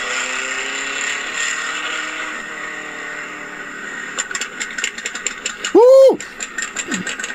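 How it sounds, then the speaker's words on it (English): A car engine revs and pops while shooting flames, with sharp bursts and a loud rising-falling roar near the end over background hum; a person talks excitedly in between. "Car shooting flames right now."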